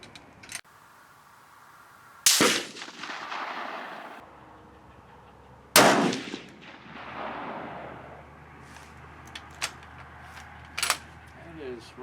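Two loud rifle shots from a Gruning Precision and a Steyr 300M CISM, each a sharp blast with a long rolling echo, several seconds apart, followed by faint clicks and metallic rattles.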